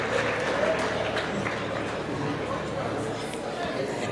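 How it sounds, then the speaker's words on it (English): A crowd applauds with steady clapping throughout, mixed with murmuring voices in a large room at an education awards ceremony. "Let's give them a big round of applause as they descend the stage."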